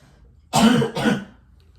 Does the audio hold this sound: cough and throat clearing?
yes